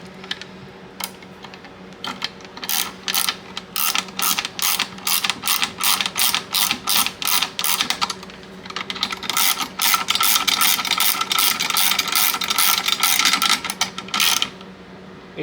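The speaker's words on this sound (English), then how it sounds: "So you're just going to take a ratchet here." A 10mm ratchet tightening a bolt on a Summit docking system and shuttle, with rapid loud close clicking in long bursts and brief pauses over a steady background hum.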